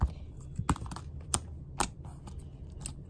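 Clear mermaid slime with seashell pieces being squeezed and handled, producing a scattered series of sharp, crisp clicks and pops, close and fairly quiet against a soft background.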